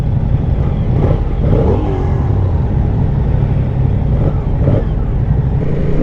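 A 2024 Moto Guzzi Stelvio motorcycle engine held at steady revs, its exhaust note a constant low drone with slight rises in pitch, close and loud, with no talking.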